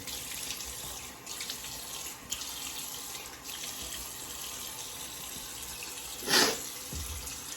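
Water runs steadily from a tap into a sink with a continuous hiss, briefly louder splashing near the end, no voices.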